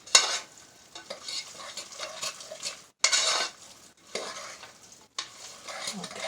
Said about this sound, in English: go ahead and put that into my stuffing and give it a nice stir